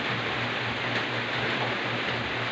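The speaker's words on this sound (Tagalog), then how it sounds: "Dahil malamig yung panahon, umuulan dito sa amin." Steady rain falling on a cold morning, a constant even hiss of drops with no break and no talking.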